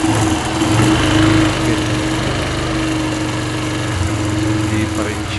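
Yamaha Aerox S scooter engine idling unevenly after throttle body cleaning, a steady buzzing hum with loud, wavering surges, close by, with people talking over it.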